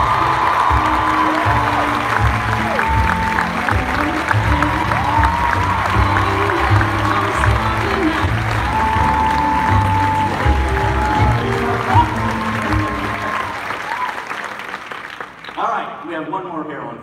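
A large convention-hall audience at a D23 Expo panel claps and cheers steadily, with whoops and shouts rising over sustained applause and some voices mixed in before the noise fades away near the end.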